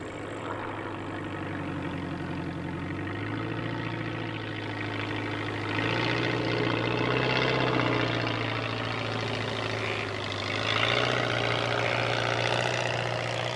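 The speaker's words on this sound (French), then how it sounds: "Marjorie atterrit sans encombre sur le sommet de Sirès." A light propeller aircraft touches down on a narrow mountain-top airstrip in the Pyrenees, its engine droning steadily nearby, the pitch rising and falling a few times as it slows and taxis.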